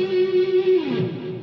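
Distorted electric guitar plays a short phrase from a solo, a held note bending down, with brief muted strums near the end, close and loud without speech.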